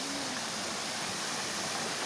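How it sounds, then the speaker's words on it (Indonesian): A small waterfall at the foot of Gunung Salak near Desa Petir rushes with strong, fast-flowing water, a loud, dense, continuous roar filling the whole scene. "Ya, ada air terjun."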